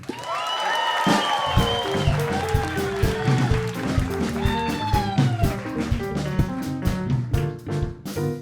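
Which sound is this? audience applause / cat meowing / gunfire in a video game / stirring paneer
audience applause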